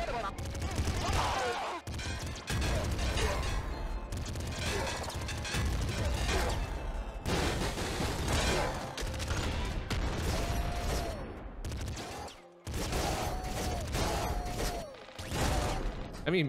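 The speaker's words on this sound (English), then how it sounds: "Just fucking airstrike the shit out of everything." Airstrike explosions and gunfire fill a video game battle, loud dense bursts and crashing booms with brief gaps, a couple of tonal beeps overlaid, and no one speaking.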